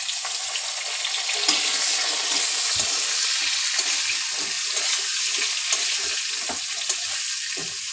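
Potatoes sizzle steadily in hot oil tempered with black cumin, a dense, even crackle with occasional soft stirring clicks, close and alone, in a pan where fish was fried for a curry.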